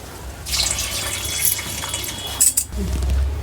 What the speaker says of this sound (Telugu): ఫుల్ కప్పు నిండా రెండు కప్పులు నీళ్ళు పోసుకోవాలి